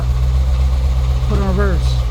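A Hemi V8 idles in park with a broken flex plate, a steady low rumble carrying a faint rhythmic knock, with a short voice sound rising over it near the end.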